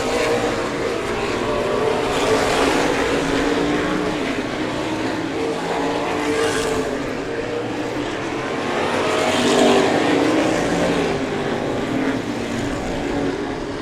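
Florida open wheel modified race cars at Showtime Speedway roar continuously in a loud, dense wash of engine noise as the pack races past, with swelling passes and no speech.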